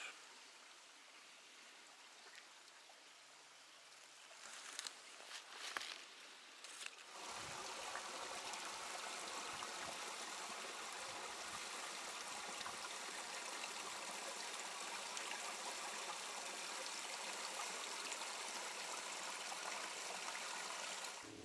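A stream flows steadily with a constant rushing wash on the Ouachita Trail, after a few seconds of quieter outdoor sound and some brief knocks near the start.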